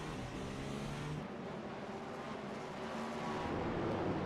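College prototype race cars braking and racing on the Indianapolis Grand Prix road course, a continuous loud roar of engines from a distance with a slight swell near the end.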